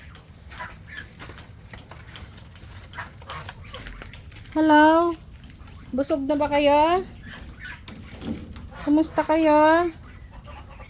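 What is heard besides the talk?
ducks and fowl on a farm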